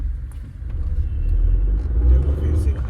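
City road traffic rumbles, with a deep low drone of cars and vehicles nearby that swells and eases, while a person talks over it.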